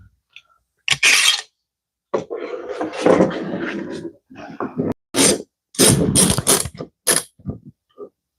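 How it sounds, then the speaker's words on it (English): Clamps ratcheted and cranked tight on a glued-up wooden cutting board, heard as several short creaking, clicking bursts separated by pauses, fairly close. "I'm gonna throw one more clamp on the underside because that one doesn't reach"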